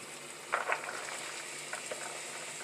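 Food sautéing in a pan for a gourmet cornbread dressing with Cornish hen, a faint, steady sizzle with a couple of brief crackles, quiet and without talk.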